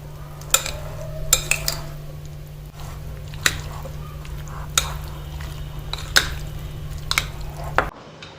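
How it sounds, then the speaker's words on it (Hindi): Burger filling being mixed with tomato sauce in a bowl, irregular clinks and scrapes of a utensil with soft squishy stirring, close, over a low steady hum. "कर लेती हूँ इन्हें मिक्स"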